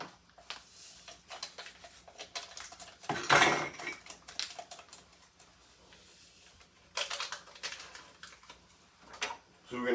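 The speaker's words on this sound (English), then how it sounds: "So we're going to take our fork now and just kind of whisk the yeast in." A fork whisks dry yeast into water, its tines clicking and scraping against the bowl in quick, close bursts with a louder flurry midway and again toward the end.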